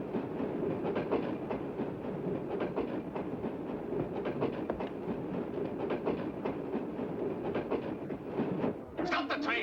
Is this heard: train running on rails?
yes